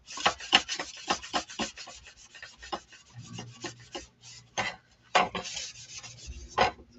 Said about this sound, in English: So I'm just buffing it in with the other side of my applicator.